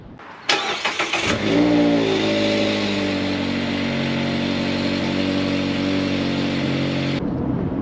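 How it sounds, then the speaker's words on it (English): A Mazda MX-5 Miata fitted with uprated springs starts up with a quick cranking burst, then its engine settles into a loud, steady close-up drone as the car pulls away and runs on, with no talk. "First drive out then, feels okay, we're about a mile down the road."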